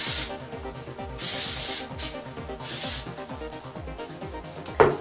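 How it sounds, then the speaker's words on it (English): Hairspray hisses from an aerosol can onto freshly curled hair in several broad bursts of a second or so each, close and fairly loud, with music playing steadily underneath. "So just lightly spray your hair."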